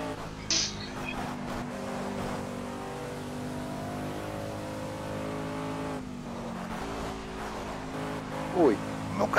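A Sauber C9 race car engine in Project CARS drones steadily with rising and falling revs and a brief tyre squeal, while someone talks over it throughout.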